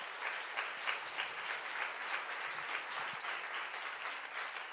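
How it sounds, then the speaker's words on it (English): A crowd claps steadily in a sustained round of applause, fairly even in loudness throughout, with no voices over it. "I would like everybody to give an applause for that."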